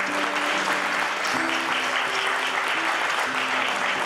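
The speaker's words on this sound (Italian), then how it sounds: "Un applauso da Perugia." Steady audience applause at a nativity scene competition in Brescia, welcoming a participant from Perugia, dense and continuous with a faint sustained tone running underneath.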